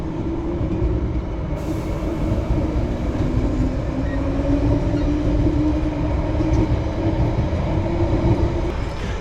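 A London Underground train runs toward Northfields, a loud steady rumble of wheels and motors with a sustained droning whine, constant throughout from inside the carriage.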